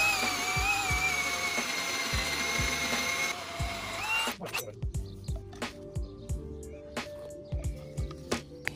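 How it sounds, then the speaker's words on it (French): A power drill bores into the corner of a wooden beam used as a border, a steady high whine at first, then a series of short rhythmic bursts with sharp knocks, close and loud. "On va d'abord percer ici le coin de mon madrier qui me sert de bordure."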